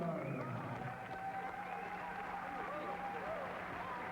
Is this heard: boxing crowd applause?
yes